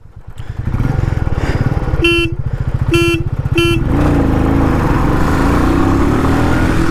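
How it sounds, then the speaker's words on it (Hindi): Three short, loud horn beeps sound in quick succession over a motorcycle engine's steady rumble, which then revs and keeps running, at a drag race between Royal Enfield Meteor and Thunderbird 350X motorcycles. "इस बार मैं 3 हॉर्न दूंगा"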